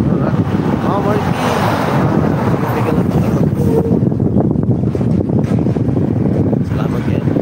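Strong wind buffets the microphone outdoors on an overcast day at a roadside, making a steady, loud rumbling roar that lasts the whole time.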